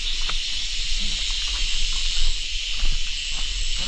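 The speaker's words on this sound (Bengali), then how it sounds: "সন্ধ্যা নামতেছে, যার কারণে ঝিঝি পোকার ডাকটাও ভেসে আসতেছে।" Crickets chirp at dusk in the hills of Bandarban, a steady high-pitched buzzing chorus that continues without pause at a moderate, even level.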